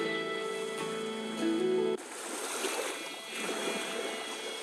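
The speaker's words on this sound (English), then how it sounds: "there's water in the beginning" Rushing water, like surf or a stream, opens a song: a steady wash of broadband noise that takes over after a brief tonal musical passage and swells and ebbs for the rest of the clip.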